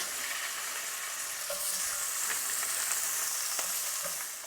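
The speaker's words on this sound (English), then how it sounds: "I'm using the same pan, and I'm going to color slightly my pork belly" Pork belly browning over medium heat in a pan, an even hissing sizzle that stays steady and close, with a few faint pops and taps and no voices.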